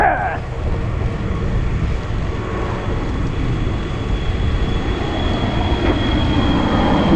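An airplane passes overhead near Changi Beach in Singapore, a broad, steady rumbling roar that holds through the clip, with faint talk in the background.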